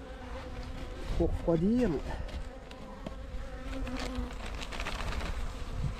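A dense, steady buzzing of many honeybees from an opened hive colony fills the clip, with a brief spoken phrase partway through.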